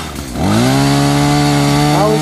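A Craftsman chainsaw revs up loud and close while cutting a tree on raw land being cleared, holding a steady high engine whine with a brief rev dip near the end.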